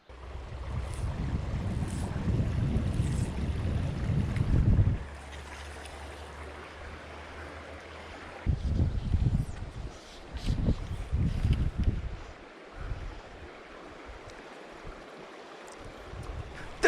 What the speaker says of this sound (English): I'm really hoping the audio's not like totally blown out by the water for you guys